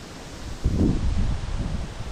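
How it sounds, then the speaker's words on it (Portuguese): Strong wind on the summit of Pico Monte Claro in Veranópolis, Rio Grande do Sul, rushes as a sudden low, rumbling gust into the microphone and then keeps blustering, with no talk. "Ventão aqui em cima do Monte Claro."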